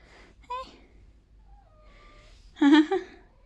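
A cat meowing indoors near a cat door, two short close meows, the second louder and longer, separated by a quiet stretch with a faint tone.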